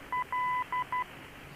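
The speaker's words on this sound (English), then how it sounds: "listening to the Morse code." Morse code identifier beeps from a navigation beacon in a TBM900 flight simulator cockpit: clean steady tones in a short dot-dash pattern of four beeps, one notably longer, over a low hum.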